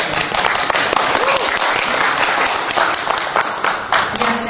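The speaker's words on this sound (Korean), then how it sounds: "박수로 환영해 주시죠." A church lecture audience welcomes the guest speaker with a sustained round of dense, even applause from the room, filling the whole few seconds.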